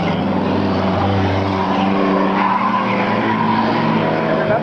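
Race cars roar around a track in a 1998 event, a loud, unbroken engine drone with shifting pitch as several cars run close together.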